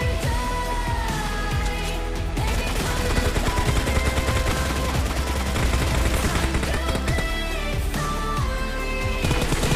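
Gunfire from an M762 assault rifle in PUBG Mobile Lite, dense rapid shots sustained over a busy, loud game mix with music-like tones and a voice talking throughout.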